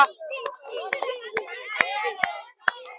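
Scattered hand claps from a small audience at a balloon-finding and popping game, a handful of sharp separate claps among children's chatter and talk.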